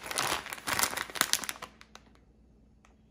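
Plastic package of river snail noodle soup being handled, with loud busy crinkling and crumpling for about a second and a half, followed by a few sparse soft rustles and clicks.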